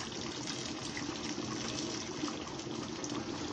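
Boiled water is poured from a vessel into a pot of Libyan mbakhbakha stew, making a continuous, fairly loud splashing gush that lasts the whole moment.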